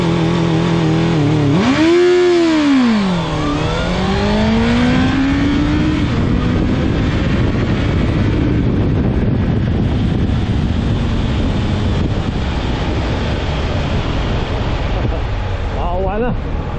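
A Honda CB650F motorcycle fitted with a Rapid Bike launch control performs a launch start: the engine revs up and dips sharply, then pulls away in a long, loud roar buffeted by heavy wind noise.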